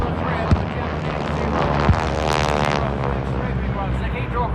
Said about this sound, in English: Listen to the roar of the engines, the sound of the air raid sirens and gunfire.